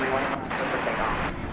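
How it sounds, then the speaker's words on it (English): An American Airlines Airbus A321neo arriving from Los Angeles at DFW Airport at night, heard as a steady, broad jet roar that stays level for the whole stretch, with talking over it. "Now we've got American 3181 arriving from Los Angeles, an Airbus A321"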